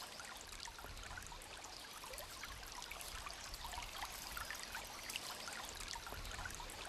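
Soft, steady trickle of a stream running through a cool, shady alpine valley spot, a faint continuous babble with small splashes and no voices.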